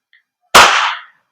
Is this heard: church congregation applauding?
no